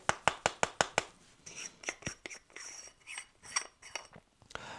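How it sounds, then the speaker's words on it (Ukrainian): Handling the ground-coffee basket of a Wacaco Nanopresso portable espresso maker: a quick run of sharp, close clicks and taps, then slower, softer knocks and scrapes of the small parts. "беремо корзинку для меленої кави"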